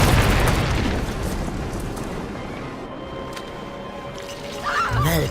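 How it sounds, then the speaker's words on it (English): A frag grenade blasts enemy pillboxes in the Clive Barker's Jericho video game, with a loud rumbling boom at the start, a lower roiling tail, and a second sharp burst near the end. "Drop a frag on those pillboxes"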